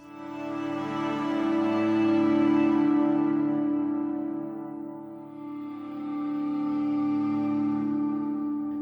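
A sampled cello patch playing sustained bowed notes, a smooth swelling tone that fades around the middle and then swells back in, steady and alone without speech.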